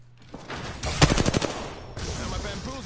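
Gunfire in a PS4 shooter game comes as a short rapid burst of automatic shots, then scattered further fire at moderate distance. A voice talks faintly underneath.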